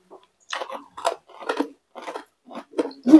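Papaya being chewed close to the mic, a series of about six soft wet bites spaced roughly half a second apart, with no talking over them.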